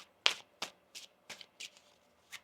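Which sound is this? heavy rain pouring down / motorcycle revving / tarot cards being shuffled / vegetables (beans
tarot cards being shuffled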